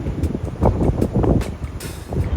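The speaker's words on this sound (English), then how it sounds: "So windy." Gusty wind buffets the microphone in rough low rumbles, steady and close, with no talking.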